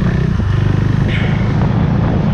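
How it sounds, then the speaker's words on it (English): A KTM Duke 390 single-cylinder motorcycle engine runs loud and close, a steady throbbing rumble with a pulsing beat and one brief rise in revs, with no talk. "But then comes the beautiful engine."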